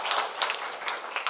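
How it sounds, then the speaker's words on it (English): Audience applause for a professor at a medicine forum, a brief burst of scattered hand clapping heard fairly faintly from across the hall. "applause one more time to Professor"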